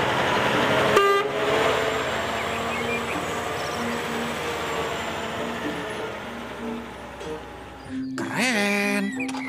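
A cement mixer truck (truk molen) on an Indonesian road sounds its horn in steady repeated toots over loud traffic rumble, with a sharper burst of horn and other noise near the end.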